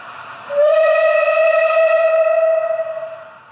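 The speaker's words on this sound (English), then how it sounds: "Function 10 is a long whistle." A long, steady steam whistle blast from the sound decoder of a Hornby OO gauge BR blue Merchant Navy model locomotive, loud and sustained for about three seconds before tailing off, with a faint steam hiss underneath.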